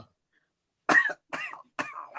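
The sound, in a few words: cough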